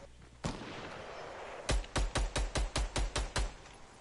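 Gunfire in Fortnite, a single shot followed after a pause by a rapid string of about nine evenly spaced loud shots, close and sharp, with no talking over them.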